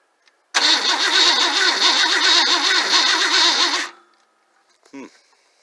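An engine starter cranks loudly for about three seconds and then cuts off without catching, leaving a brief faint sound afterward.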